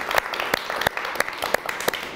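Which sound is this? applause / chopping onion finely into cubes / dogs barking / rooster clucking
applause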